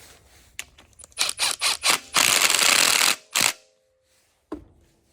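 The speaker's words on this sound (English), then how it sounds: "Throw our bolt back in." Ratchet clicking while a bolt on the idler pulley of a Dodge 3.6L V6 is tightened: a run of short, close ratcheting bursts, then a longer sustained ratchet stretch, a final burst and one clank, with no talk.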